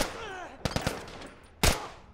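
Gunfire in The Last of Us video game: a quick cluster of three sharp shots, then a single loud, booming blast about a second later, each cracking out over a low background hum.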